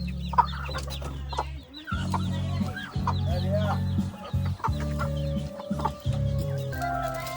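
Breeding chickens clucking nearby in a backyard coop, repeated clucks over a low droning hum that cuts in and out, with a faint voice in the background.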